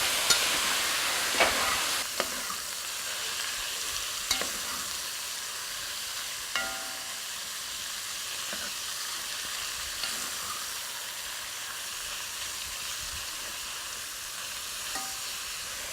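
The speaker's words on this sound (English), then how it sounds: "So we're going to add our chicken. Don't season it, remember. Season it, remember. Put it in there. Put it in there. And we're going to let it cook with the sausage." Chicken pieces cooking with sausage in a pot for Creole gumbo, a steady close sizzle and crackle with occasional clinks and stirring knocks, running on without talk.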